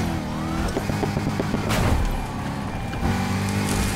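Car engine revving with tire skids during a police chase in the video game Need for Speed Heat, a loud continuous motor drone with harmonic sweeps and a sharp screech burst midway, no talking.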